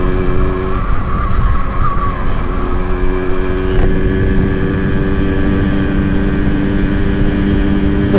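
Yamaha V80 motorcycle with an 80 cc engine being ridden, its buzzing engine loud and steady with a pitch shift as it changes speed, wind noise throughout and no talking.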